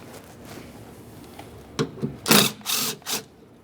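A ratchet wrench backs out 10mm mounting bolts on a 2009-2014 Nissan Maxima front window motor, giving a few short close ratcheting bursts after a quiet start.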